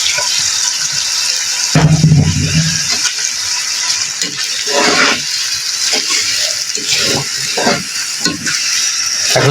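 Rice washed and mixed with lentils fries in beef fat for khichuri, making a loud, steady sizzle with repeated scraping stirs from a spoon and a heavier clatter as the grains go into the hot pot.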